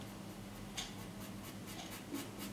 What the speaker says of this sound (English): I just want to use my thinner nib to block out that shading